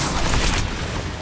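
A short, loud Confringo blast from Hogwarts Legacy in the midst of rapid spellcasting combat, a punchy burst of booming crackle that peaks and then tails off into rumble.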